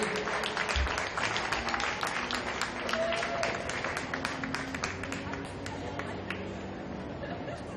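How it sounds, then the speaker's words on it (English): Crowd at an RPI women's hockey game against Cornell applauds female student athletes, a continuous moderately loud clapping throughout with arena ambience and crowd murmur. "Let's have a nice round of applause for all these female student athletes"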